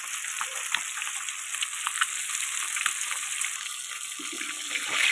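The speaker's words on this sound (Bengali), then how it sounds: "এই মাছ কড়াচি তেল দিয়ে এই মাছ ভাজা বসিয়ে দিয়ে দিয়েছি" Fish frying in oil in a wok, a loud, steady hissing sizzle close up with small pops and crackles running through it.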